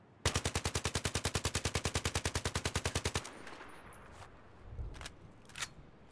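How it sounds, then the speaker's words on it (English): A SCAR-L rifle in Battlefield 3 fires a sustained full-auto burst of about three seconds, a steady loud stream of shots that stops abruptly, leaving a few faint thumps afterward. "Now let's see how we can control it with a full burst."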